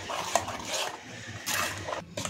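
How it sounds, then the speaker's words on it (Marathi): Idli batter mixed with Eno being whisked in a bowl, soft scraping and clinking of a spoon against the vessel in short bursts, faint and close with no talking. "त्याच्यामध्ये मी अर्धा पॅकेट इनो टाकून घेते, व्यवस्थित फेटून घेते"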